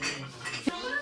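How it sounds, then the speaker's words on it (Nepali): Plates are taken out for a family birthday meal at home, with one faint clink of dishes against a soft murmur of background voices. "थालहरू निकाल्दैछ"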